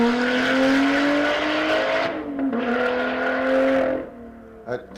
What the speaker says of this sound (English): Turbocharged V6 Lotus